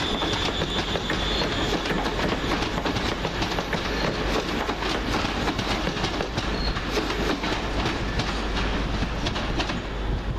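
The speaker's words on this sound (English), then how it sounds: "She'll lead away the 1711 first Transpennine Express service from Manchester Airport to Glasgow Central." Passenger train running through Carlisle station, with steady loud rumble and rhythmic clickety-clack of wheels on rail joints, faint wheel squeal, continuous and close for the whole stretch.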